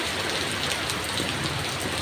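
Heavy rain pours in a dense, even hiss with strong wind, steady and close for the whole moment, with no voices.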